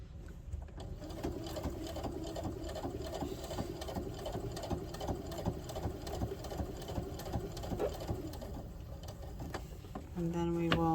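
A sewing machine stitches an apron in a steady, continuous run of rapid needle strokes lasting most of the clip, close and moderately loud, with a brief change in tone near the end as it pauses to pivot at the corner.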